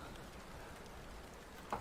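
Rain falls on a rainy morning as a soft, steady patter heard faint and distant throughout, with one brief louder knock near the end.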